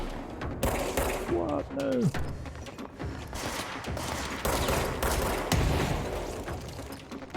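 Gunfire crackles in the shooter game Control, dense repeated shots and mechanical clatter over a busy combat soundscape, with a brief spoken exchange partway through.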